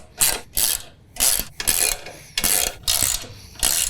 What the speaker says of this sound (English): all we need is our 13mm wrench, and we can go ahead and tighten everything up